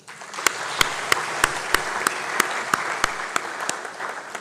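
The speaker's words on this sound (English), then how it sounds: "Another round of applause." A crowd claps after a speech in tribute to Julius Nyerere, with a steady wash of applause and a series of sharp, evenly spaced louder claps standing out near the microphone.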